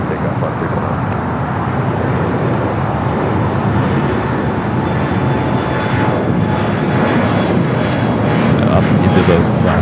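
An American Boeing 777-300ER takes off from LAX runway 25R, producing a loud, continuous jet engine roar that holds steady for the full stretch and swells slightly toward the end.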